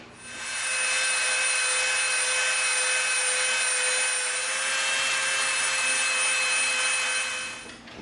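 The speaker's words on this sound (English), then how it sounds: "we're going to Dremel from this line to this line" A Dremel rotary tool whines at a high, steady pitch while cutting into EVA foam, running continuously at close range for several seconds before winding down, with no voices.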